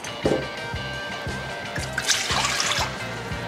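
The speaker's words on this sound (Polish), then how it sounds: "Do naczynia wlewam wodę." Water pours into a bowl while preparing dough for XXL burger buns, a trickling, splashing fill with rhythmic knocking sounds underneath, fairly close.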